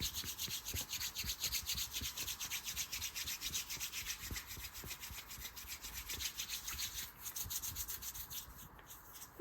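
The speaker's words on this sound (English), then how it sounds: "So this shoulder first, just giving it a good rub." Hands rub steadily over a shoulder in a quiet massage roleplay, giving a close, soft, continuous brushing friction with a regular back-and-forth rhythm and no talking.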